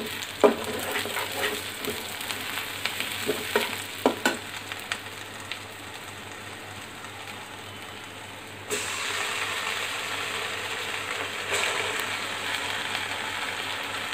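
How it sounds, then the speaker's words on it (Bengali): Onions fry in oil in a wok, a steady sizzle with intermittent scraping and stirring clatter early on, growing brighter and louder partway through. "পেঁয়াজটা একটু ভেজে নেব।"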